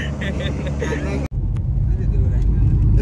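An auto rickshaw ride near Murbad, with a steady engine drone and road rumble filling the cabin throughout, broken by one brief dropout, while voices talk over it.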